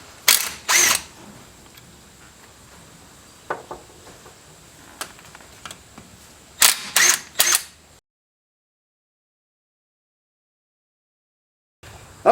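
Bolts being worked loose from the steering knuckle cap of a 1945 Willys MB jeep, heard as a few sharp mechanical ratcheting bursts separated by quiet pauses, followed by a stretch of near silence.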